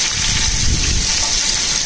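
Water gushes and splashes steadily as a ridge gourd is washed for a Telugu tomato chutney, a close, continuous rushing with no speech.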